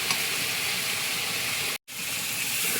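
Ghugni frying in a pan after its water has cooked off, giving a steady close sizzle and hiss with one brief dropout, and no talk.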